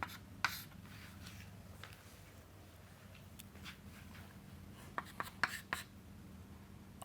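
Marker or pen scratching across a board during a mathematics lecture, faint intermittent strokes with a few sharper taps near the end over a steady low room hum.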